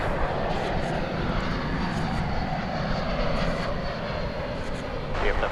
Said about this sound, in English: Arriving now from Denver, American Flight 1832, an Airbus A321.